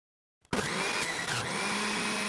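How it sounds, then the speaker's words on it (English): Electric juicer juicing strawberries, starting abruptly after a moment of silence and then running as a loud, steady motor whir close by. "So I'm gonna juice my strawberries."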